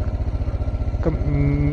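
A motorcycle's engine putters in a steady, fast pulsing idle, then shifts pitch slightly as the bike moves off on a weekend ride near the Koil Sagar dam.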